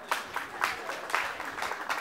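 Audience claps in fairly quick, loose bursts, faint and somewhat distant, with no clear voice on top.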